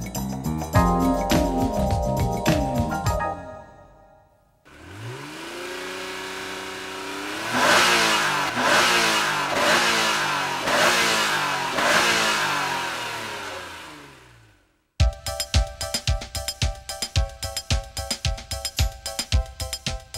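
A Ferrari F355 engine revs hard, then accelerates through several rising gear pulls with brief dips between shifts, loud and close, before a sharp cut to rapid, staccato engine pulses.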